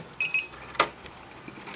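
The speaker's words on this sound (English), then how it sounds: "you heard that alarm beep because all 4 are done" A Royal Sovereign FS-44P coin sorter gives its alarm: two quick, high, clean electronic beeps close together, followed by a short sharp clack, with no talking.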